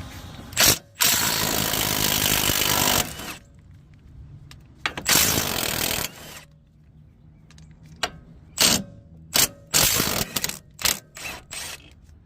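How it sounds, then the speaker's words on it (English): A ratchet loosens two nuts and a 17 mm bolt on a Toyota Corolla during CV axle replacement. Long loud bursts of metallic clicking and rattling are followed by sharp separate clacks and short spurts, close up, with no talking. "we're gonna take these two nuts off, and then we're gonna take this bolt loose right here. 17 millimeter."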